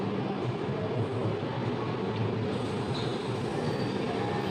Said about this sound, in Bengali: দেখো প্যারালালি একটা ট্রেন ঢুকছে